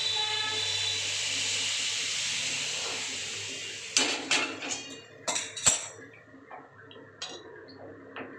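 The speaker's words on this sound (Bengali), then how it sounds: "জল ঢেলে দিই এবার।" Hot water poured into a pan of prawn curry: a broad hiss of steam rises and fades over several seconds, followed by sharp clinks of a utensil against the pan.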